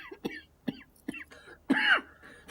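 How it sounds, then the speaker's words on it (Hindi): A man coughs in short, harsh bursts, several hacking coughs spaced about half a second apart ending in a longer strained cough, close and fairly quiet indoors, with a voiced, throaty quality. "ये कैसी अजीब खांसी हो रही है आपको?"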